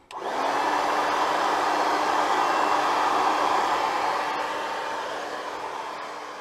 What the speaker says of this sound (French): Je vais utiliser un séchoir à cheveux pour accélérer le processus de séchage